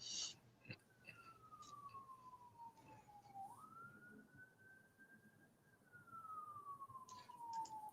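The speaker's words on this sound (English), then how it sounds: "I hear the sirens." Sirens of emergency vehicles far off in the distance, one faint wailing tone rising and falling slowly and continuously, heard alone under quiet outdoor background.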